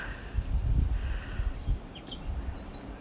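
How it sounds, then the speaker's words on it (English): A few high chirping bird calls repeat in quick succession, faint against a blustery background of wind rumble. "listen to these birds"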